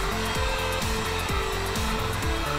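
A heat gun blows steadily as it warms leather preserver on leather, a continuous loud whirring airflow with a droning motor tone that wavers slightly in pitch.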